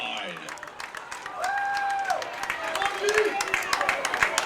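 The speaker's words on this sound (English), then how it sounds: "crowd starting to come alive" Crowd noise at a high school football game between Red Bud and Salem builds after a long pass play, with scattered cheering and clapping rising steadily under a whistle-like tone and nearby talk.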